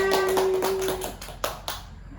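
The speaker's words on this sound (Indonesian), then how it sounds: "Tepuk tangan untuk kita semuanya." Children clap their hands together in a classroom during a fourth-grade lesson, a brisk run of sharp claps that thins out toward the end, with a faint sustained tone under the first second.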